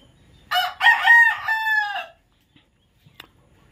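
A rooster crows once, loud and close, in a chicken coop in the early morning, followed by a few faint clucks and soft shuffling noises.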